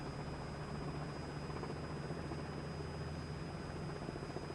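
Helicopter rotors in Microsoft Flight Simulator 2020 during a hurricane flight, a faint steady whirring drone with a thin high whine, continuous and unbroken with no voices.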